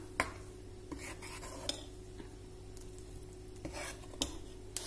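A spoon stirs thick oats pancake batter in a bowl: faint, quiet scraping with sparse light clicks of the utensil against the sides, close by and without talk.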